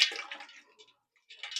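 Water, sourdough starter and fresh milled flour are given a quick stir in a bowl, making short wet sloshing and swishing bursts with a brief pause in the middle.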